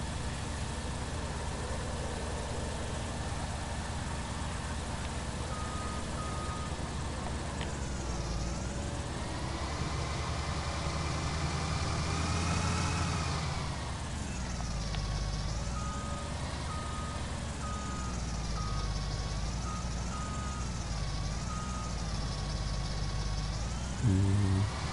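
A tractor engine drives in Farming Simulator 19, hauling a header on a farm: a continuous droning motor that rises and falls in pitch as it speeds up and slows, with faint beeping tones mixed in and no talk.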